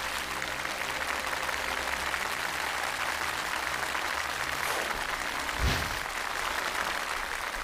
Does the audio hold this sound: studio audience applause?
yes